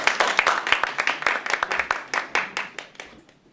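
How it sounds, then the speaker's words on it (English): Audience at a business conference applauds a guest speaker, Mark Elkins, as he is welcomed up. Individual claps stand out at first, then thin out and fade to near silence by the end. "Give him a big round of applause"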